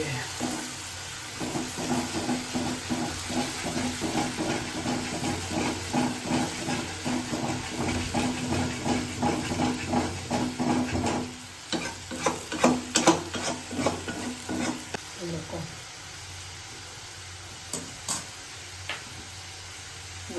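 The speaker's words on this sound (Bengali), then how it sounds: "পেঁয়াজটা লাল করে ভাজতে হবে।" Onions frying in a pan to turn them red-brown make a steady, close sizzle and hiss, with stirring scrapes and clatter getting louder midway, then the sound thinning near the end.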